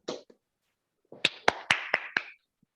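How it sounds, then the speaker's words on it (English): A few people clap sparsely after an online presentation, with about five sharp, close claps in quick succession and a couple of isolated taps before. "Clap for her."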